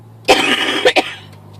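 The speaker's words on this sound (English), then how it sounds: "still coughing." A single harsh cough close by, followed by two short throat-clearing coughs, then quiet over a low hum.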